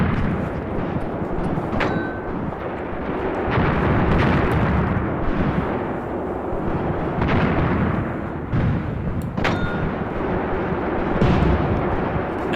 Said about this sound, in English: Just look at the explosion there at the bridge.